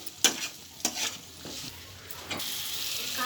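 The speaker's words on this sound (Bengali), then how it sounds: "এর মধ্যে দিয়েছি আমি 1 চামচ গোলমরিচের গুঁড়ো আর 1 চামচ রেড চিলি পাউডার। এটাই ভালো করে কষিয়ে নিচ্ছি।" Chopped tomato sautéed with a spoon each of ground black pepper and red chili powder for spicy pasta: a few sharp scraping stirs against the pan over a quiet sizzle that grows steadier and louder toward the end.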